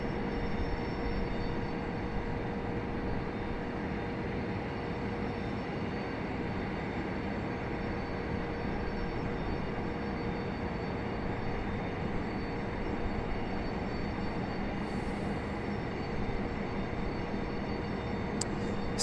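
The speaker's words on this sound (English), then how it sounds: "The big tri-jet MD-11." A McDonnell Douglas MD-11 tri-jet airliner roars steadily at an airport, its engines producing a loud, continuous broadband rumble with faint tonal whine that holds constant for the whole stretch, with no talk over it.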